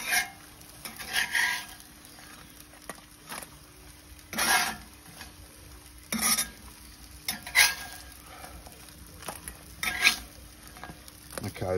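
Fries sizzle in a frying pan while they are scraped and lifted out, so a soft background hiss is broken by repeated close bursts of scraping and stirring at irregular intervals.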